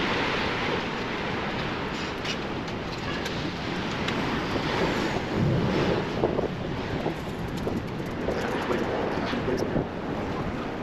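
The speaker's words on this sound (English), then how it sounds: "It's getting pretty windy." Strong wind blows across an outdoor work site at the top of a wall, a loud continuous roar and buffeting with gusts swelling and easing throughout.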